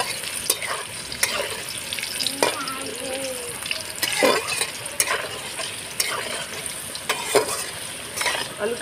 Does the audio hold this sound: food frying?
yes